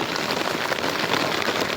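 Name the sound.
heavy rain falling on a shed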